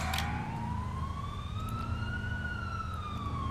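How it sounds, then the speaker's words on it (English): An ambulance siren in the video game GTA IV, a steady rising and falling wail sweeping slowly over the whole stretch, fairly prominent above a constant low traffic and engine rumble. "That ambulance is annoying"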